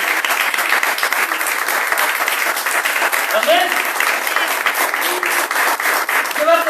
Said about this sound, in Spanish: Aplaudimos al Señor.